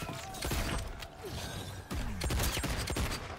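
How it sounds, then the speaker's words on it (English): In Mortal Kombat 1, rapid bursts of gunfire crackle and pop in quick succession, dense and fairly loud, with a brief lull midway before the shooting resumes. "Gunshots."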